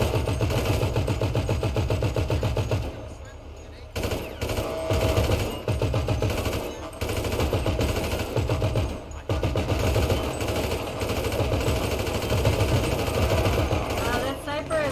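Automatic gunfire during a GTA roleplay raid rattles on in long, dense bursts with short gaps, loud and continuous, while voices talk over it.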